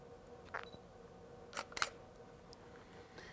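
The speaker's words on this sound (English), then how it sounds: "So watch as I take that picture." A camera shutter fires during a slow exposure at an eighth of a second, with soft close clicks and a sharper double snap in a quiet room.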